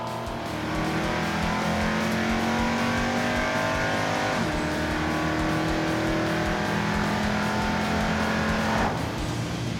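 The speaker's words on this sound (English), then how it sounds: "Maybe now it won't bounce off the rev limiter in first gear." A Roadkill project car, General Mayhem, runs hard in first gear. The engine revs up loudly and steadily toward the rev limiter, drops back and climbs again with a strained mechanical roar.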